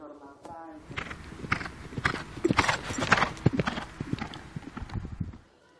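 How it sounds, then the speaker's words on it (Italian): Racehorses walking onto the track before a race for four-year-olds over 1450 metres, a dense close clip-clop of many hooves on firm ground, with voices mixed in. "Cavalli in pista per la quinta corsa"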